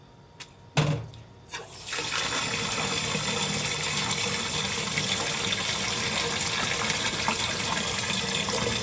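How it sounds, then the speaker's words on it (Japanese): Hot water from freshly boiled handmade nihachi soba noodles is drained off, a sudden steady gush of pouring water that starts after a couple of soft clunks and continues loud and unbroken to the end. "茹で上がりましたので湯切りをします。"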